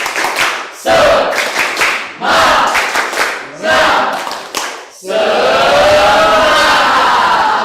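A classroom group performs a rhythmic spirit-clapping routine, loud bursts of patterned claps in several short phrases separated by pauses, ending in a sustained burst of clapping mixed with shouting voices.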